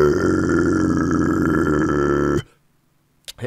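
A low, guttural, gurgly scream made by vibrating only the arytenoids with minimal false-cord involvement, held loud and continuous for about two seconds before cutting off into silence and a faint breath.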